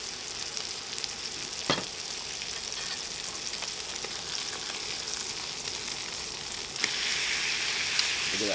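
A grass-fed ribeye steak sears in a pan with a soft, continuous sizzle and a few brief clinks or scrapes, fairly quiet and without talk.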